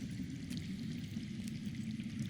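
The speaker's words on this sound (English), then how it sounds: "I hear water. From underground." Faint running water trickles steadily from underground in a cave setting in the Game of Thrones Telltale video game, a low continuous wash with no voices.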